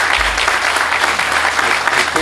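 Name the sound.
audience applause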